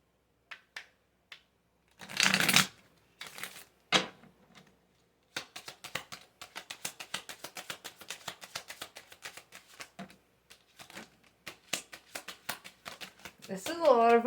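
A large deck of tarot cards is handled and shuffled up close, crisp riffling bursts followed by a long run of quick dry card flicks and taps, with a voice speaking briefly at the end.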